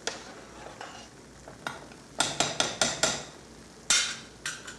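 A utensil stirring in a bowl while making a Japanese yakitori tare sauce, giving a run of sharp, rhythmic clinks and scrapes, close by, after a quieter start.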